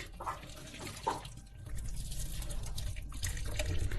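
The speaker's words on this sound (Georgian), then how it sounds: "ჩვენი მაკარონი მოიხარშა და უნდა გადავწუროთ" Boiled pasta water pours and splashes steadily into a sink as the pasta is drained, a continuous rushing stream with a few brief clatters near the start.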